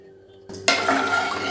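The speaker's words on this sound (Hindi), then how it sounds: "इसमें 3 चम्मच घी डालेंगे।" Ghee spooned into a kadhai (wok) on a gas stove, a metallic spoon clink on the pan followed by a sudden soft hiss and sizzle that continues, close up over faint background hum.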